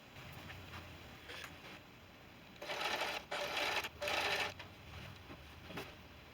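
A sewing machine stitches a quilt fabric strip in three short bursts of rapid, steady whirring, separated by brief pauses, fairly quiet and close, with faint handling sounds between.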